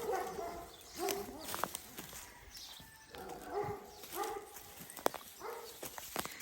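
A dog barks and whimpers a few times in bursts, mid-distance, with footsteps and faint background voices around it.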